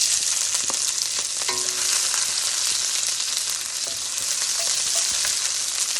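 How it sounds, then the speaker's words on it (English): Green beans fry in about a quarter cup of really hot oil, making a loud, continuous bright sizzle with a few small pops and clicks, close and alone. "the first thing we're going to put in the hot oil is green bean"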